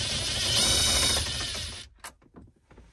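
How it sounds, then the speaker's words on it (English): A 10 mm driver on a 6-inch extension spins out stereo bolts in a Toyota Tundra dash, giving a close, continuous ratcheting whir that stops abruptly, followed by a few light clicks and taps. "to remove this, I'm going to use a 10 millimeter driver, and I've got a 6-inch extender on there."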